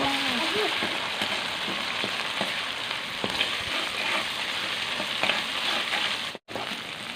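Golden onions sizzle and fry steadily in hot oil as ginger-garlic paste goes in for a Nargisi kofta curry, a continuous close crackle with occasional stirring clinks and a brief dropout near the end.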